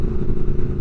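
A 2022 Triumph Speed Twin with a rebuilt motor and a loud aftermarket exhaust runs close by, a brief burst of deep, throbbing exhaust rumble with uneven pulses.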